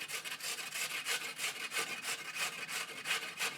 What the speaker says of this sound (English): But I like to grate them small.